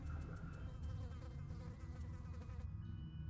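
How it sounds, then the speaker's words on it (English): Flies swarm around a plague rat in the Gloomhaven video game, a continuous close buzzing drone that holds steady over low game ambience before cutting off near the end. "there's a little buzzing of flies, and it's very noticeable above all the other sounds in this game"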